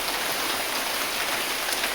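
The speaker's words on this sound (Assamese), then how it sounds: "বৰষুণ এৰে না নেৰে" Steady rain pours down with a dense, even hiss and no break, filling the whole stretch with constant patter and nothing else heard over it.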